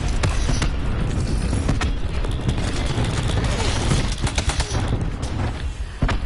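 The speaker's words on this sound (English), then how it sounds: "Boom time. Cluster grenade." Cluster grenade explosions in a first-person shooter video game form a dense, loud barrage of overlapping bangs and crackles. The blasts run almost continuously with short sharp peaks, with no voices.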